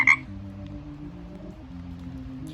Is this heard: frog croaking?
yes